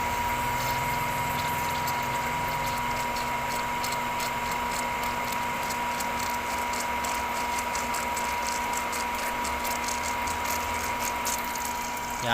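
A Mitsushi water pump, freshly primed, runs with a steady mechanical whir and fine rapid ticking as it begins drawing water, a continuous close drone with no talk.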